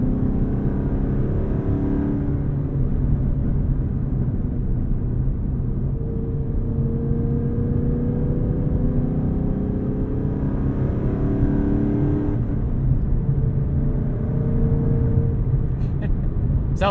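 A 2012 Ford Mustang Boss 302 drives through turns, its engine a steady low rumble from inside the car with gently rising and falling tones as it moves through each corner.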